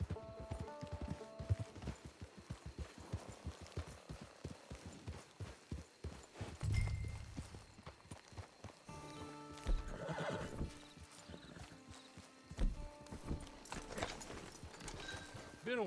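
Horse hooves clip-clopping at a steady rhythm with a couple of neighs and whinnies in Red Dead Redemption 2, set over quiet ambient game sound and music, fairly faint overall.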